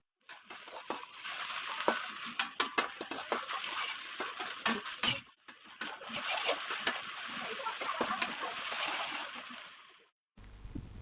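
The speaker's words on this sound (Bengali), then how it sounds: "তেলের মধ্যে রসুন কুচি দিয়ে চিকেনগুলো 1 চা চামচ ডিম দিয়ে মেখে 2 মিনিট ভেজে নিব।" Chicken coated in egg frying with chopped garlic in oil and ghee, giving a steady loud sizzle broken by stirring clatters and bursts of splatter, briefly cut near the middle and again at the end.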